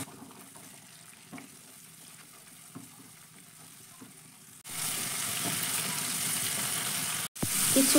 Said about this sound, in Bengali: এবার টমেটোটাকে তেলের সঙ্গে একটু কষিয়ে নেব।